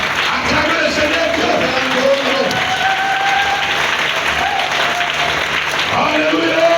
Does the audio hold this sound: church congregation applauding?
yes